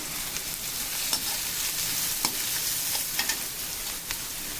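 Boiled rice is stir-fried in a hot pan with a steady, hissing sizzle. A few scraping stirs stand out above the continuous frying, and no one speaks.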